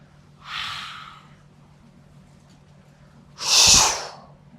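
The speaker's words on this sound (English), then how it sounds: "And maybe some audible out breaths." Two audible breaths out during a meditation session, each a soft, airy rush. The second is louder and closer than the first, with quiet stillness between them.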